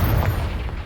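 A Confringo fire-blast spell in the Hogwarts Legacy video game erupts as a loud, close, sustained boom, with heavy low rumble filling the whole second.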